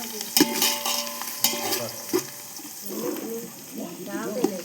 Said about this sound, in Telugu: బాగా కలపాలి